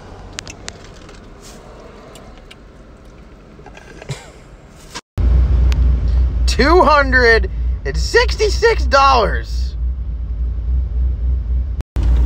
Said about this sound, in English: my damn car's too loud, bro.